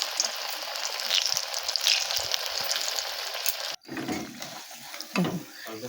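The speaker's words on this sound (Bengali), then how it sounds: "কড়াই তেল গরম হয়ে গেছে তাই আমি একে একে আস্তে আস্তে কড়াইয়ের মধ্যে দিয়ে দিচ্ছি" Flattened-rice pakoras dropped one by one into hot oil in a wok, a close crackling sizzle that cuts out briefly, then returns with lower bubbling and some handling knocks.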